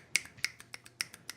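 Jazz-style finger snaps, roughly nine crisp, close snaps in an uneven rhythm, each one sharp and bright with nothing else around them.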